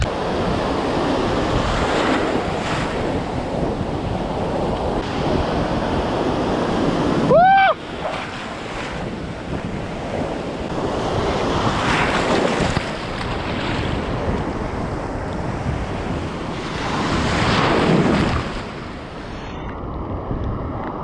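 Sea of Okhotsk waves roll and crash on the Sakhalin shore under strong wind buffeting the microphone, a loud continuous wash swelling and easing over the stretch, with a brief whistle-like squeal partway through.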